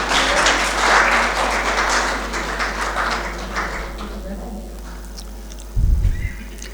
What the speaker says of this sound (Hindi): रोशनलाल आर्य जी के लिए एक बार जोर से ताली जरूर बजा दीजिए